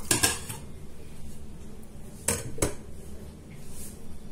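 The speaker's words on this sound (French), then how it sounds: "vous aurez besoin pour cuisiner cette viande d'une cocotte minute. On va mettre notre viande dedans." Meat set down into a metal pressure cooker pot, with a few sharp metallic clanks and clatters near the start and again midway over a quiet room hum.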